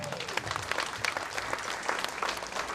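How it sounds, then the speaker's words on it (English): Applause from an audience at a women's summit morning session, a quiet, even patter of many hands clapping at a distance, steady throughout. "So let's give them a big round of applause."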